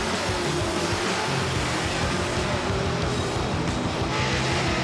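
Drag race between an '88 Mustang and a '66 Chevy II, engines roaring loud and continuous at full throttle, a dense sustained rumble with no pauses.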